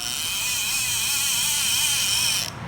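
A Madox 50R fishing reel spool with a modified clicker spins fast, giving a steady high buzzing whir that cuts off abruptly near the end.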